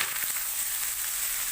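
Dried chili and panch phoron hit hot oil while moong dal is being cooked, giving a steady, close, bright sizzle that runs evenly throughout with no voices.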